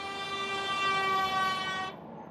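A stock horn on a Rivian R1S electric SUV sounds one steady, high-pitched, thin toot lasting about two seconds, loud and close, then cuts off.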